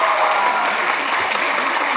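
A crowd at a folk dance festival applauds an ensemble leader, thick, even clapping at full strength throughout a brief moment.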